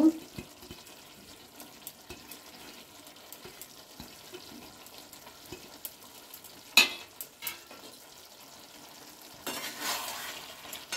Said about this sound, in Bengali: একটুখানি মিশিয়ে দেব ধনে পাতাটা